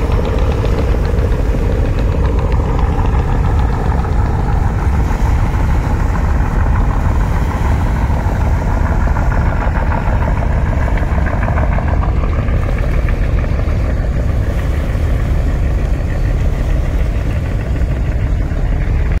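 A passenger launch boat in Bangladesh drones with a constant, mid-pitched engine rumble as it departs. The sound is continuous and fairly loud, with no voices.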